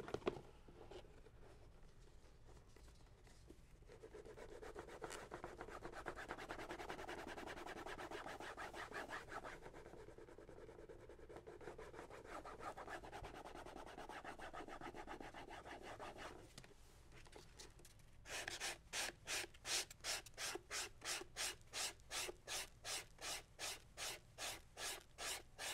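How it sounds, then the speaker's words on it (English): Leather edge being burnished for a wine tote, a steady rubbing friction that runs continuously and close, then turns into fast, regular back-and-forth strokes near the end. "We can burnish."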